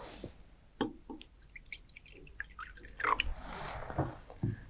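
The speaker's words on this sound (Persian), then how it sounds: "در ابتدا در بیکر مقداری از آب می ریزم" Water poured into a glass beaker on a lab bench at the start of a filtration demonstration, heard as faint scattered splashes and drips with short pauses between them.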